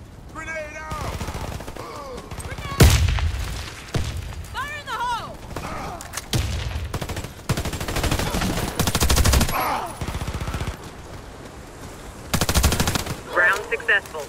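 Gunfire and grenade explosions in the shooter video game Warface, with bursts of rapid automatic fire and heavy booming blasts at intervals, mixed with in-game voice callouts and talk.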